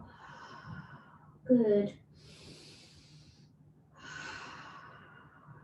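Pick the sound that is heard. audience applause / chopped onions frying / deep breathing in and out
deep breathing in and out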